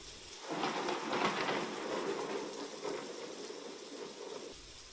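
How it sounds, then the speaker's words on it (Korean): A heavy rain shower pours down in a steady dense hiss with low rumbling beneath, loud and continuous, no voices present. "소나기는 내리붓기 시작하였다."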